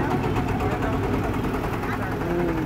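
A boat engine idles on the Teesta river, a steady, continuous low rumble with broadband noise that holds at an even level for the whole stretch.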